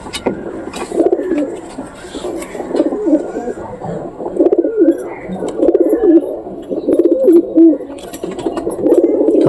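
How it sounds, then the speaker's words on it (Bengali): A pair of pigeons coo repeatedly in soft, rolling, throaty phrases, close by and fairly loud, with no talking. "এখন তোমাদেরকে এক জোড়া কবুতর দেখাবো, যতদূর সম্ভব ওই জোড়াটা দোবাস কবুতর হতে পারে।"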